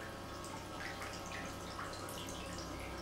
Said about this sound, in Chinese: 然后打开水泵开关， 等水管出水后